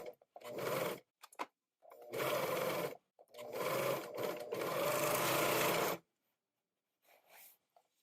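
A sewing machine stitches the center back seam of a garment sleeve in several steady whirring runs of a second or more, separated by short pauses, with a few faint bursts at the end.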